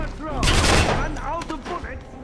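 Gunfire in Wolfenstein (2009): a loud cluster of shots with a rumbling tail, followed by a few weaker pops, while a voice talks over the action.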